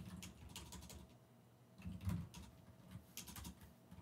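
Keys tapped on a computer keyboard in a quiet room, entering code for symbolic integration in Python, with a soft, irregular patter of clicks over four seconds and no talking.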